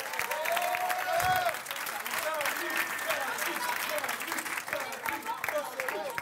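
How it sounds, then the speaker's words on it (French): Audience applause at an improv show, a steady dense wash of clapping with cheering voices mixed in, loud and sustained throughout. "Et j'aimerais ça qu'on l'applaudisse."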